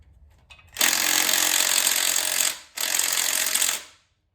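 An impact wrench hammers at tight bolts on an Audi 2.0T TFSI engine, two loud rattling bursts, the first about two seconds and the second just over one second, separated by a brief pause, close up with no talking.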